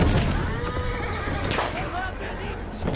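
A horse neighs loudly in Battlefield 1, a long whinny sounding over the chaotic noise of battle, with hoof clip-clops and a voice talking over it.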